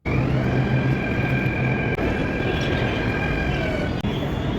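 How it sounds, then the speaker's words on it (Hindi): A metro train arrives at Kirti Nagar station on the way to Noida Electronic City, with a steady loud rumble and a whine that run through the clip and two brief clunks on the way in. "तो आ गई अपनी मेट्रो कीर्ति नगर के लिए"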